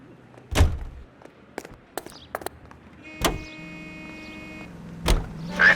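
Car doors in L.A. Noire slam with sharp thunks one after another, then a brief mechanical whir and an engine starting and idling with a steady hum, closing with another heavy door thud.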